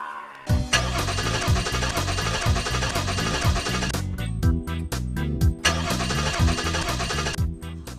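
A car engine cranks repeatedly with a steady rhythmic churning of the starter that never catches, loud and continuous under a layer of background music.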